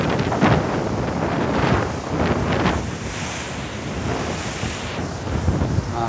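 Large waves whipped up by Typhoon Maysak surge and crash onto the shore at Songjeong Jukdo Park, a loud roaring wash of surf mixed with heavy wind buffeting the microphone, with no talking.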